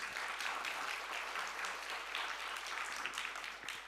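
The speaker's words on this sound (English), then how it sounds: "Give them all a very warm round of applause." Warm audience applause for a panel at a food security and health event, a dense, sustained round of clapping from a sizeable crowd that fills the whole stretch without talk.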